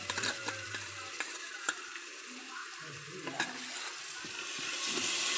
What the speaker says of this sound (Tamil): இந்த மாதிரி நல்லா பரட்டி விட்டுக்கிட்டே இருங்க